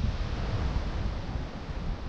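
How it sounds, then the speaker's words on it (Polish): Wind blows steadily by a trout stream while dry-fly fishing, a rough broadband rush buffeting the microphone with low rumbling. "teraz wiatr akurat"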